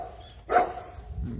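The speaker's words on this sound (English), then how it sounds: "Oh no, I've woken up the neighbor dog." A neighbor's dog barks once, briefly and at moderate distance, in an otherwise quiet early-morning outdoor setting, with a soft low rumble after it.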